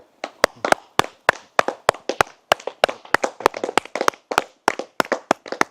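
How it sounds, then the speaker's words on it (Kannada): Hand clapping beside a temple pond, a steady run of about twenty sharp, close claps in an even rhythm, with no talk over them. "ಒಂದ್ಸಲ ತಟ್ಟಿ ನೋಡೋಣ ಚಪ್ಪಾಳೆ ತಟ್ಟೋಣ"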